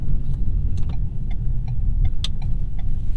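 A Ford Maverick FX4 pickup on all-terrain tires creeps slowly over rough ground, giving a steady low rumble from the cabin with scattered light rattles and knocks.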